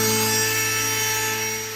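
A Dremel 8260 rotary tool runs at its 30,000 RPM top speed, cutting into 2cm wood with a circle jig. It gives a loud, steady, high-pitched whine that holds constant with only a slight dip at the end.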